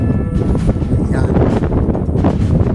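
Strong gusting wind thrashing tree branches, buffeting the microphone with a heavy low roar, rustling and shifting in intensity throughout.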